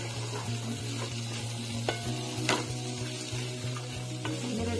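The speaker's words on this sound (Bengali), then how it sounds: "ডিমটা যে কুটে নিয়েছি ওই ডিমটা এখন দিয়ে দিব। দিয়ে নেড়ে চেড়ে নিব।" Chopped egg is tossed into a hot pan and stirred. A steady, close sizzle of frying runs throughout, with scraping strokes of the spoon and a few sharper clinks against the pan.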